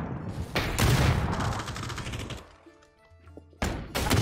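Bursts of rapid gunfire ring out in the PUBG video game's Halloween battle royale mode: a long volley at first, a short lull, then another burst at the end.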